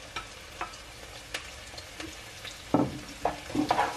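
Cut red pepper fries in a pot while being stirred, a light sizzle broken by scattered clicks and a few sharper scraping knocks toward the end, quiet and close.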